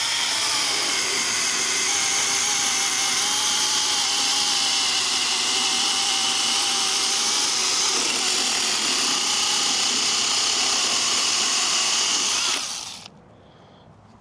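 A chainsaw cutting firewood whines at high revs in a loud, steady, close buzz, then winds down abruptly near the end and drops to a low idle.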